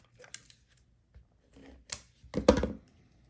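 Scissors snipping paper while making a plaid greeting card, a few short close cuts and rustles, the busiest burst near the end, with no talking.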